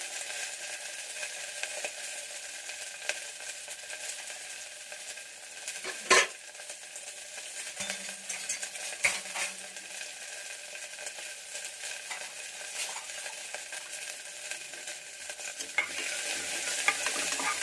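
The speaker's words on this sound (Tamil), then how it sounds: "வெங்காயம் நல்லா செவக்க வறுக்கணும்" Small shallots and curry leaves frying in oil for a curry, a steady close sizzle running throughout with occasional stirring scrapes and one sharp utensil knock partway, alone with no voices.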